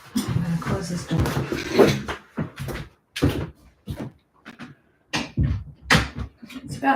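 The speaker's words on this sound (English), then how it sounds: "I'm going to close this door." A door thuds shut in a room amid several sharp knocks and bumps, with a person talking at moments between the sounds.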